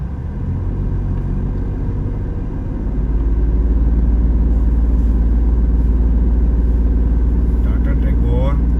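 A Tata Tigor car pulls away in gear on a rough off-road mountain track, its engine a steady loud low rumble that swells after a few seconds and holds, with people talking inside the cabin.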